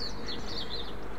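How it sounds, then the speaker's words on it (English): On the coast path between Paignton and Torquay, a bird sings a string of bright, warbling chirps over a steady background rush of ambient noise. "Listen to that bird singing,"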